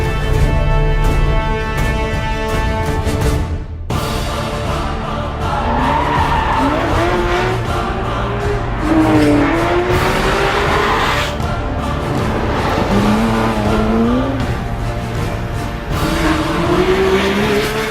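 A Porsche 911 GT3 RS 4.0 works hard on the Weissach test track in Germany, its engine note rising and falling through gear changes with a brief cut near four seconds, loud and steady throughout.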